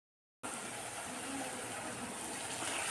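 Water poured into a spice paste in a mixing jar, a soft, steady gushing that starts abruptly and runs on evenly, fairly faint and without talk.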